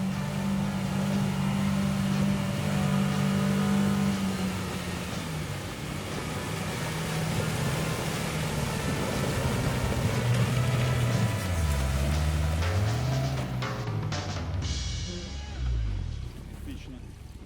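Engine of a Tinger TF4 Pro amphibious ATV pushing through thick ice and swamp, a steady droning rumble that shifts pitch as it labours and revs, with crunching and clattering toward the end, loud and close.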